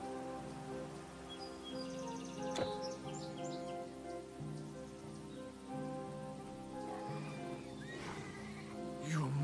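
A horse whinnies in Titan Quest over a sustained musical drone, with some hoofbeats and chirping birdlike calls scattered through the scene at moderate loudness.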